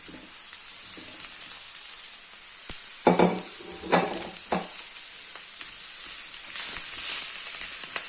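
Okra dropped into hot oil and stirred in a pan, giving a continuous sizzling hiss with a few louder clattering scrapes midway as the pieces are moved around.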